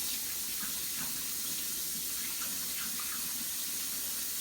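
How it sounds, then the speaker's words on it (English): Water from a kitchen tap runs in a soft, steady stream while hands are washed, with faint splashing shifts, quiet and continuous, and no talking. "Thoroughly wash our hands because of the whatever virus."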